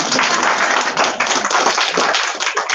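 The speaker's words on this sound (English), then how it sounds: "A round of applause." A seminar audience bursts into dense, steady clapping that carries on loud and unbroken for a few seconds.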